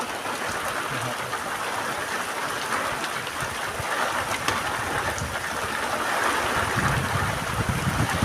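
A summer hailstorm with heavy rain pours down in Khadgam village, a dense, steady roar of falling drops and pellets on surfaces that continues without a break and grows slightly louder.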